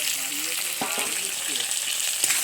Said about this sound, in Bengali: চিংড়ি রেখে ভেজে দিচ্ছি